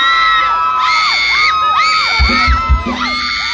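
Concert crowd at a Thai luk thung show in Hat Yai screams and cheers continuously, with high shrieking voices rising and falling in waves and a few louder bursts, close and dense.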